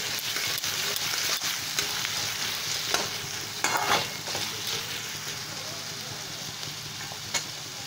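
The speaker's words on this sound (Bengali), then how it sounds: "পেঁয়াজ কুচিটা হালকা ব্রাউন অবধি আমি ভাজা ভাজা করব" Chopped onions fry toward light brown in a pan, a steady close sizzle broken by scraping stirs and clinks of the spatula, with no talk over it.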